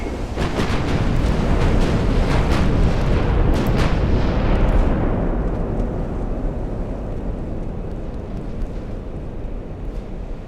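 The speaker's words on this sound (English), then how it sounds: "There we go, another volley." Warship guns fire a volley in the naval battle game Ultimate Admiral Dreadnoughts, a loud booming roar with a few sharp cracks that rolls off into a long, fading rumble.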